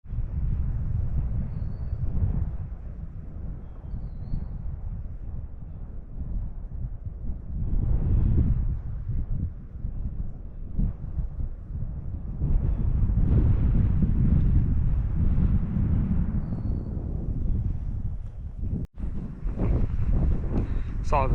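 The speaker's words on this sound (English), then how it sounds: "I think it's windier now than in the morning." Strong wind gusting across open sand dunes on a cold day, a steady low rumbling roar buffeting the microphone with louder surges, heard alone without talk.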